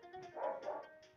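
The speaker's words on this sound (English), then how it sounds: "My dog has to shut up." A pet dog lets out a few soft, muffled barks and yips at a distance, fairly faint against a quiet background.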